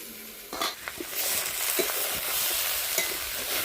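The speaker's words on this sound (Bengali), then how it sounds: "একটু হালকা ভাজা করলাম মাছের ঝোলের ঝোলের মধ্যে দেবো" Fish lightly frying in a little oil in a pan for a fish curry, a steady soft sizzle with a few light scrapes and stirs, close and moderately quiet.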